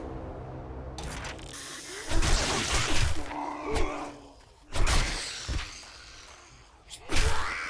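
Glass shattering in 7 Days to Die, with sharp crashes and breaking bursts repeating at intervals over a dark game ambience, loud and close.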